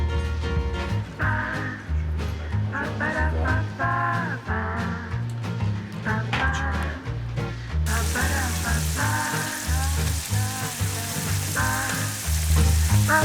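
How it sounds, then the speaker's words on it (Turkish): Anchovies fry in a pan with a steady, loud, dense sizzle that crackles continuously throughout, close up and with no voices. "sıra geldi kızartmasına"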